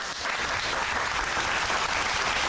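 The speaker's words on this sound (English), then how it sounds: "round of applause" Dense, even applause fills a short stretch during a live Sunday night show, a continuous crowd-like wash of clapping with no gaps or speech.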